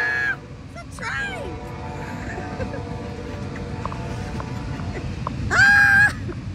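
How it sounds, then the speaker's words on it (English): A train passes near a graveyard at a Civil War battle site park, its sustained horn-like tone carrying from a distance beneath excited voices and sharp screams. "It's a train!"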